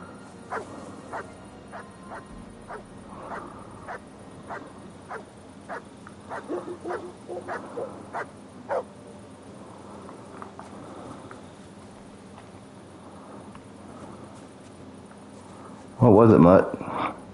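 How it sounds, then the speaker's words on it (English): Dog barking in Kingdom Come Deliverance 2, a medieval video game: a string of short barks in a steady series, moderately distant over quiet game ambience, ending with a brief louder burst of other noise. "Bro, where are you barking?"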